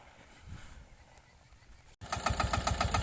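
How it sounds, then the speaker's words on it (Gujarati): A Massey 5118 mini tractor engine runs while building ridges in a farm field, a low rumble that jumps to a loud, steady, rhythmic chugging after a brief gap, close to the listener. "તો આપણે મેસી એકાવન હજાર ટ્રેક્ટર મિની ટ્રેક્ટરથી પાળા બાંધી રહ્યા છે"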